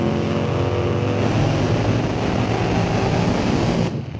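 The 1948 Fiat drag racer Hellfire 2 runs on nitromethane with a loud, harsh, continuous engine roar at close range for several seconds, then cuts off abruptly near the end.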